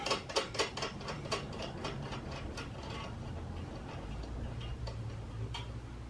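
Thumb screw nut being unscrewed from the rear drum brake rod of a Honda Super Cub C125, giving a run of quick, close ratcheting ticks that crowd together early and then thin out, with no talk.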